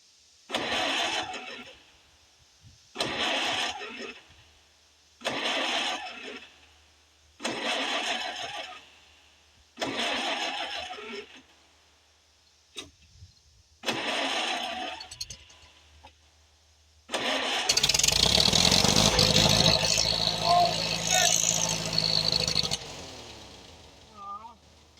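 A Farmall H tractor engine cranked over in repeated short bursts, roughly six slow grinding attempts with pauses, then catching and running rough and loud for several seconds before fading, close by.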